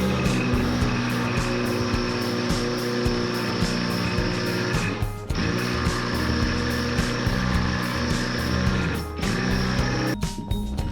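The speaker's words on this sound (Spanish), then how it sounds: "Le está costando porque obviamente es una broca del 12." A power drill with a 12 mm bit grinds into a beach stone, a loud continuous motor whine with rough grinding that dips briefly twice as the bit struggles, and no talking.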